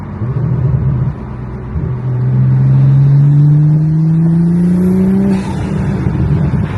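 A turbocharged A90 Toyota Supra with an Armaspeed carbon fiber intake revs up loudly with a deep intake roar, pitch climbing steadily over several seconds before easing off.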